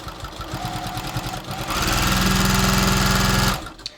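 A sewing machine stitches the hem of a pair of jeans, starting with short stop-start bursts and then settling into a loud, steady, rapid run of stitching for about two seconds before stopping abruptly.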